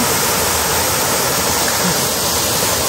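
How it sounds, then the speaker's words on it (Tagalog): Waterfall in Chichibu, Japan, roaring as a loud, steady broadband rush of falling water with no pause, close by and alone. "Nandito na naman kami sa beautiful waterfalls in Japan."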